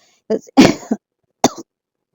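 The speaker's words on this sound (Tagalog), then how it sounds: "May ubo." A few sharp, close coughs in quick succession, with a short pause before a final single cough.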